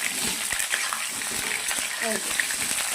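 Food frying in a pan and being turned over, a continuous crackling sizzle broken by soft scraping stirs, close and fairly loud throughout.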